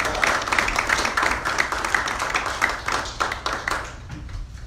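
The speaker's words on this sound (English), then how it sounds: "Let's give her a round of applause." Audience applause at a religious gathering as a speaker is welcomed to the rostrum, a dense steady patter of many hands clapping that thins and fades toward the end.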